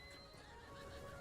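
A horse neighs in the video game Breath of the Wild. The short whinny is quiet and sits under a steady background wash of game sound.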